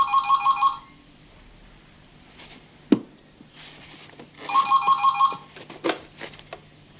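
An old-style telephone bell rings in two separate bursts of rapid trilling, with a sharp knock and some quiet shuffling in the room between them.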